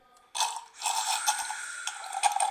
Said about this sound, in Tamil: இதெல்லாம் வந்துட்டு அந்த தண்ணி உரிகிற மாதிரி சவுண்டெல்லாம் நம்மளே கொடுத்துருக்குறோம்.